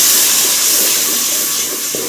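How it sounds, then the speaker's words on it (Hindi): Water poured into a pan of tomato masala cooking with green chillies and garlic, a steady loud hissing, splashing rush close by that fills the whole short moment with no talk. "तो पानी डाल दिया है"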